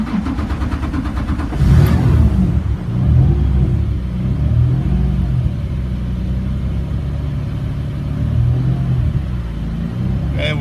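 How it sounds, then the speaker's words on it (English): A Watercar amphibious vehicle engine cranks and starts with a brief burst, then settles into a steady, loud, low rumbling idle. "so let's start the water car."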